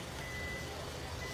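A truck's reversing alarm beeps steadily at a distance, a thin tone sitting over a low diesel rumble and broad outdoor background.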